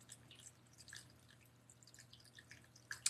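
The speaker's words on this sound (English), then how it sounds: "I have a water fountain on my desk to help relax." Small desktop water fountain dripping, quiet irregular plinks and drips scattered over a soft low hum, close and faint, a couple of sharper drips near the end.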